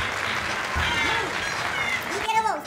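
An audience at a comedy magic show breaks into brief, dense applause, with a performer's voice talking over the clapping.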